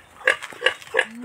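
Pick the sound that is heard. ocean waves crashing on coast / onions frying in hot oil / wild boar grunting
wild boar grunting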